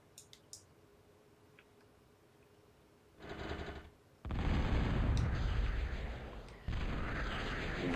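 Explosions from a bombing run in a real-time strategy game, heard as a loud rumbling burst followed by a sustained heavy roar that cuts and restarts, preceded by a few faint clicks.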